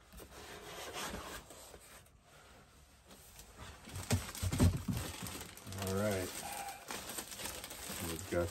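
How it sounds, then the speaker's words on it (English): A plastic bag wrapped around a portable power station crinkles and rustles close by in irregular bursts, handled and rubbed, with some thumps mixed in. "Got this wrapped up in a plastic bag here to protect it from moisture."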